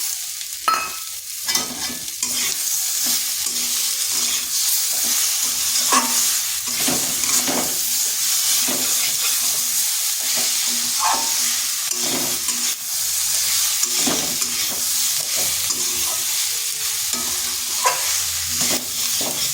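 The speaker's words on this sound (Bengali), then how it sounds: "টমেটোটা মশলার সাথে ভালো করে কষিয়ে নিয়েছি" Tomato cooks with spices in a hot pan, giving a loud, continuous sizzle broken by repeated scraping strokes of a stirring utensil. No one talks over it.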